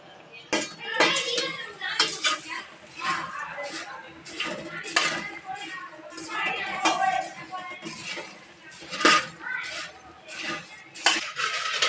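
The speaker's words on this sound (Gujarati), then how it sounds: "જો મમરા વઘારીએ છીએ." A spoon scrapes and clinks against a pan as puffed rice is stirred and tempered in a home kitchen, giving repeated metallic scraping bursts at an uneven rhythm for about twelve seconds.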